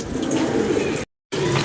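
Pigeons cooing close by on a moonlit night, a low continuous throaty coo running for about a second before a brief silent gap, then resuming.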